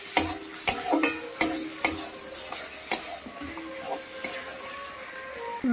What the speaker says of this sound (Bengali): এটা আমি 30 সেকেন্ডের মতো একটু ভালো করে ভেজে নেব।